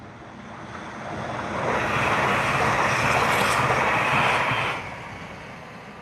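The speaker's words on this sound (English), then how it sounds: "here comes the Transpennine Express, which is class 397" A TransPennine Express class 397 electric train passes nearby, its broad rushing roar swelling over about three seconds and then dropping away, with no talk heard.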